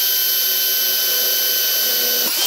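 A power drill with a small bit whines loudly and continuously at a steady high pitch, grinding through a stuck screw in a Mercedes-Benz OM617 engine before it abruptly spins down at the end.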